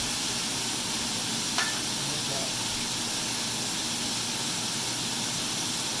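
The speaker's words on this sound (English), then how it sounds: "I'm going to throw in the beef strips that have been marinated in garlic and ginger" Beef strips marinated in garlic, ginger and cornstarch sizzling in a hot pan for Chinese bitter melon, a loud, steady broadband hiss of searing that fills the scene without a break.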